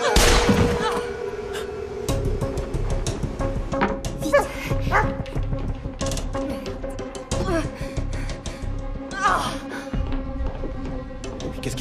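A dog barks and yips repeatedly in a tense hostage rescue scene from a police drama, the sharp barks close and loud over a busy background, with little talk.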